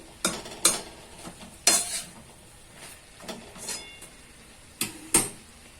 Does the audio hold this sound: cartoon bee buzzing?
no